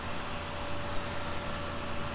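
A vacuum pump runs during a valve leak test on a Buick 340 cylinder head, giving a steady broadband hiss with a faint constant hum, close and unbroken.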